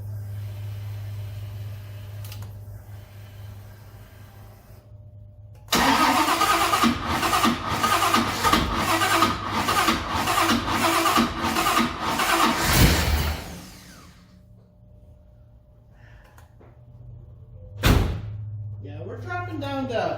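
A 1955 Chevy engine cranks, catches and runs for several seconds with a pulsing, loud rhythm, then dies back to a low hum; a brief sharp bark follows and a voice speaks at the end.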